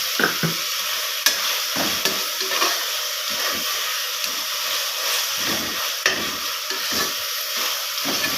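Tomatoes fry in a hot pan for a rice and lentil dish, giving a steady close sizzle and hiss with scattered scraping and clinking as a spoon stirs them, with no voices.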